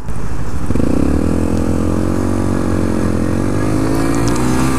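A 2014 Honda Grom 125 motorcycle engine runs loud and close while being ridden, a steady buzzing drone that rises in pitch as it accelerates through a gear.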